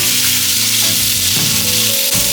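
A Japanese A5 wagyu steak sizzles loudly in an oiled pan, a close, steady hiss of frying fat with crackles and a few faint clinks, no voices.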